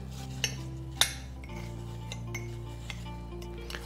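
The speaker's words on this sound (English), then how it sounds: "and stir that up." A spoon clinks against a mug while stirring an eggless apple mug cake mixture, a few sharp taps over a low steady kitchen hum, with no talk.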